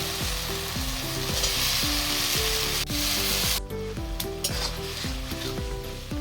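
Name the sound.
frying spice paste with tomato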